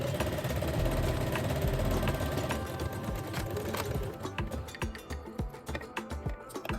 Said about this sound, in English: Sew the side seams from the sleeve edge down to the jacket hem